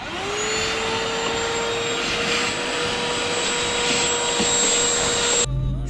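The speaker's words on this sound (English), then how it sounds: "now I'm just gonna vacuum up some of this dust" A vacuum cleaner sucking up dust inside a Jeep, a loud steady close whine with a constant hum that runs throughout and cuts off abruptly at the end.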